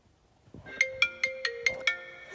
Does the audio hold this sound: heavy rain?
no